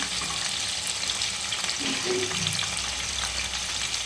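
Soybean chunks fry lightly in a pan, making a dense, even sizzle close by with a few soft stirring scrapes mixed in throughout the four seconds.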